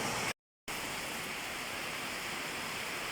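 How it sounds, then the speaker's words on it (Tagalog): Heavy morning rain pours with a dense, even hiss, briefly cut by a moment of silence near the start before resuming unchanged. "Ayan, umuulan."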